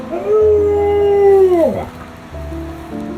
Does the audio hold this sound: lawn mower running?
no